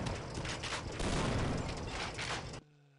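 An explosive detonates in the video game They Hunger, a loud dense blast of rumbling, crackling burst noise lasting over two seconds before cutting off abruptly to a faint hum.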